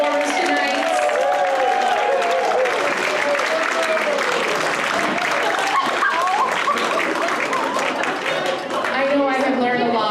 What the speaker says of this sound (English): can we have one last round of applause for all of our fantastic performers tonight?